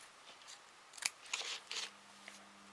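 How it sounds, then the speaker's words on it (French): Scissors snip through Christmas ribbon while a bow is being prepared, a few quiet, close, crisp cuts spaced over a couple of seconds in a hushed room. "Et je vais couper deux morceaux à peu près de la même taille."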